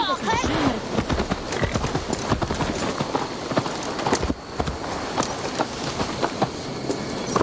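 Horse hooves clip-clop in a steady, brisk rhythm in the video game Assassin's Creed Valhalla, fairly close and loud throughout, with game voices talking over parts of it.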